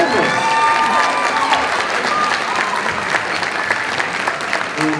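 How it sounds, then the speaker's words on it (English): A concert audience applauds and cheers as a marching band arrives on stage at a winter band concert, a dense, loud, continuous roar of clapping with shouts mixed in. "Let's give them a round of applause."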